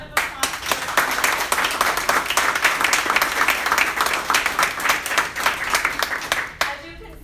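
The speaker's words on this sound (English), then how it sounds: "I want to give a big round of applause for" A large audience bursts into sustained, dense applause at the close of a talk event, steady and loud for about six seconds before it cuts off abruptly.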